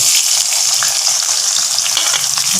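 Onions fry in a hot pan for a cauliflower stir-fry, a loud close-up sizzle with bright crackling and spatters alongside the clatter of stirring.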